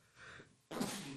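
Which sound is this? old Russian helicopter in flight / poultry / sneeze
sneeze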